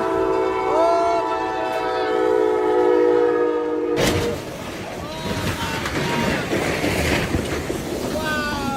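A train horn blares in sustained chord tones for several seconds, then gives way to the loud rushing rumble of a train moving along the tracks toward a car-carrier trailer stuck on the crossing.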